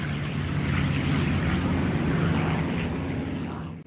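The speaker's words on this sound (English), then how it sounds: "After reconnaissance planes from both fleets had located their targets, the Japanese and American strike forces took off." WWII carrier strike aircraft taking off, a loud, steady roar of piston engines that holds for several seconds and then drops away, with no voices over it.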